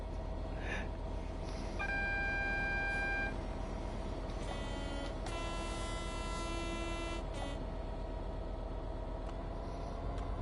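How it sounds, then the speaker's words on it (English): Freight train ahead on a route in Train Sim World 5, steady loud rail rumble from the cab with long sustained horn tones blaring twice over the continuous engine drone. "So we've got that bloody freight train in front of us, haven't we?"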